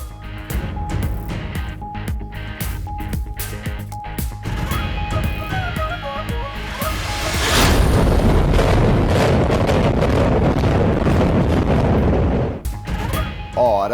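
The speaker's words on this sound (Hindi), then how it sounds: "अमरीकी रियासत फ्लोरिडा के शहर जैक्सनवाइल में 60 साल पुरानी इमारत को धमाका खेज मवाद से गिरा दिया गया" A 60-year-old building in Jacksonville, Florida is brought down by explosive demolition: a rapid string of sharp blasts, then a sustained loud rumbling crash as the structure collapses, heard from a distance.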